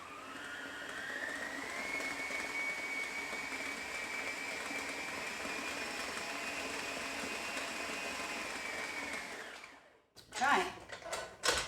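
An electric stand mixer with a paddle attachment beating butter and icing sugar into thick buttercream, a steady whirring motor hum that runs for several seconds, then stops and gives way to clunks and handling noises.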